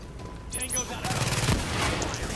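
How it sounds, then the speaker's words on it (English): Turret fire in The Division, a shooter set at a police academy: dense bursts of automatic gunfire and booms rolling on throughout, loud and close, with shouting voices mixed in. "The damn turret!"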